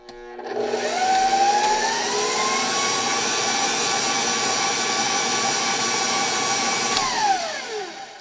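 A stand mixer churns cookies-and-cream brownie batter with a loud, steady motor whine that rises in pitch as it spins up, holds for several seconds, then winds down at the end.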